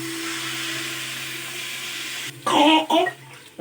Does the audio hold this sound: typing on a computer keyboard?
no